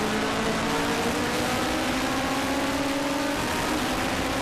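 On-board Legends race car engine at Brands Hatch during a winter championship race, a loud steady high-revving drone with rising and falling pitch as it drives on, close and unbroken, no voices.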